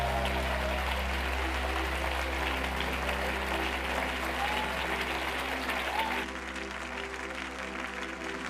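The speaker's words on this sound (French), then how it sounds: "Let's give Jesus the biggest hand of the morning." Applause from a congregation at a church service, a dense, steady clapping that carries on for several seconds at even strength before easing slightly toward the end.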